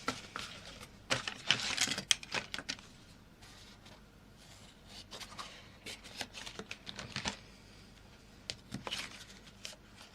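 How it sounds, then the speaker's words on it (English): A layer of foam is cut out by hand, giving quick crisp snipping and scraping bursts in irregular clusters, close and fairly quiet, with brief pauses between. "I think I might need 2 layers of foam actually. So let's cut out another one."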